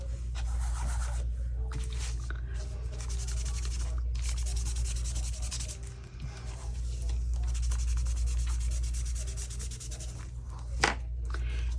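Paper index card edges are distressed by rubbing, making a continuous close scratchy scraping with short pauses and repeated strokes, fairly steady over several seconds.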